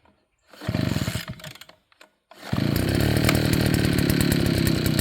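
A Neotec 52cc gas backpack blower gets a couple of short pull-start sputters, then fires up and runs at a loud, steady engine roar close by.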